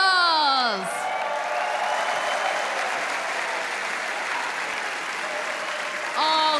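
A large arena audience at the Eurovision Song Contest grand final breaks into loud sustained applause and cheering, a dense roar of clapping lasting several seconds, with a voice heard briefly at the start and end.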